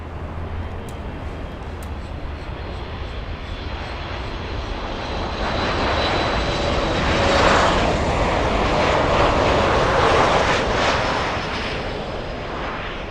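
A Lufthansa airliner at Miami International Airport roars past, its engine noise building to a broad loud peak midway and then slowly easing off, heard from a distance with no talking.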